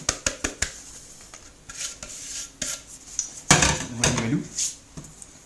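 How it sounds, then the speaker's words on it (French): Egg whites and sugar for tiramisu are mixed in a bowl: a quick run of sharp utensil clicks, then scattered taps and a longer rattling, scraping stretch in the middle, fairly close with no talking. "on mélange bien nos blancs avec notre sucre"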